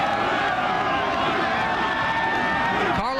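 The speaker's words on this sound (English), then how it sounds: "The Hampton fans with plenty to cheer about on the far sideline." Hampton high school football fans cheer from the far sideline after a touchdown against Deep Creek, a sustained crowd roar with an announcer's voice running over it.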